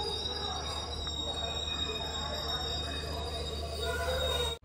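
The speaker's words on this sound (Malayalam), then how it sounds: "127/60 ഹൈദരാബാദ് ഡെക്കാൻ നാംപള്ളി താമ്പരം ചാർമിനാർ എക്സ്പ്രസ് ഇതാ ഹൈദരാബാദ് റെയിൽവേ സ്റ്റേഷൻ 5-ാം നമ്പർ പ്ലാറ്റ്ഫോമിലേക്ക് വരികയാണ്" Charminar Express pulling into platform 5 at Hyderabad Deccan Nampally station, a steady low rumble of rolling train with faint high wheel squeal running throughout, close and continuous, ending abruptly.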